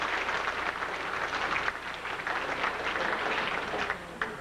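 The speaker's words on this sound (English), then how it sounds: "Big round of applause for all of our Rookies of the Year for 2006." A crowd at the 2006 Dakota State Fair Speedway racing banquet applauds the season's Rookies of the Year, giving a continuous, fairly loud wave of clapping that holds steady throughout.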